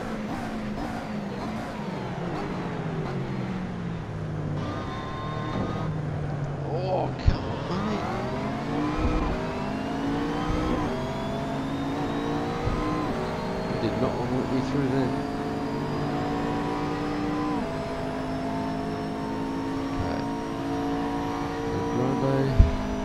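Race car engine from Assetto Corsa, revving and shifting steadily as the car drafts down a straight and accelerates out of a fast corner, loud and continuous with pitch sweeps between gear changes, under occasional talk.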